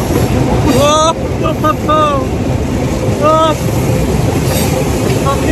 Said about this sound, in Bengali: আমি হচ্ছে এখন ইঞ্জিনের সামনে বসছি।